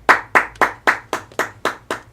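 A small group in a police station in the L.A. Noire video game claps for Cole Phelps. Nine evenly spaced, sharp claps come through up close and clear, with no talking.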